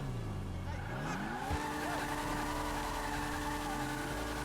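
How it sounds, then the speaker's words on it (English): Pfister Growler sports car in GTA Online, its turbo spooling up with a rising whine and a blow-off valve hiss as the engine revs, close and steady, with tire noise mixed in. "I really love the sound of the blow-off valve and the turbo"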